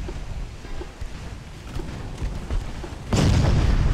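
A torpedo strikes a warship in the naval battle game Ultimate Admiral: Dreadnoughts, a sudden heavy boom that bursts out over low rumbling sea and engine noise and keeps roaring to the end.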